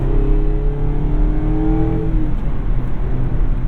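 A Mazda Miata engine revs up loudly, its pitch climbing then dropping back into a steady rumble, close and continuous with no talk.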